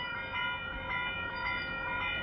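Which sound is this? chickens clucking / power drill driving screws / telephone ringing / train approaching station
train approaching station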